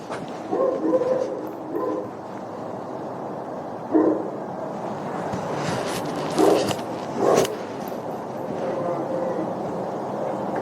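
A dog barks and yips in several short bursts nearby, loud against a steady background hum, during a recorded interview with speech present.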